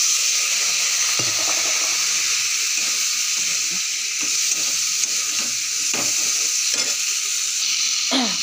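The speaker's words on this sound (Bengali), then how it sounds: "ভালো করে নেড়ে দিই। হালকা একটু জল দিয়ে দেবো," Spice masala sizzles and hisses steadily in a pan after a splash of water, with a spoon scraping and stirring at irregular intervals; close and continuous, no talking.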